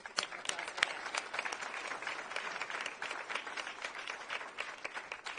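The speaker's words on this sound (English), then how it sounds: "So I'm going to give him applause for that." An audience applauds throughout a political speech by Illinois governor JB Pritzker, dense steady clapping from a large crowd with no talking over it.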